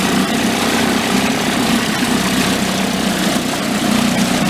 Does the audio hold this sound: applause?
no